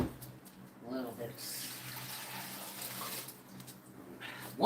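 Kitchen tap running water into a pot for meal prep, a steady rushing stream heard near the sink with brief splashes, while a voice speaks intermittently over it.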